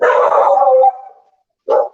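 A dog barks close and loud in a home kitchen during a cooking session in South Africa: one long, drawn-out bark, then a short, sharp second bark after a pause.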